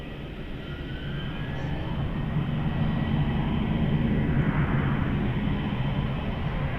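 A Jetstar airliner at Melbourne Airport gives off a continuous moderate jet rumble that swells slightly and then holds steady, heard from a distance without talk over it.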